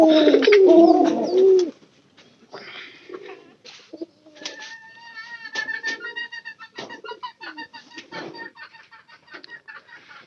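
Halipayri pigeons coo at close range in soft, repeated throaty phrases, after a brief louder burst of noise at the start.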